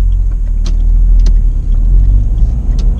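A Dacia Logan MCV drives along with a heavy, steady low rumble of engine and road noise heard from inside, plus a few light clicks and rattles in the cabin.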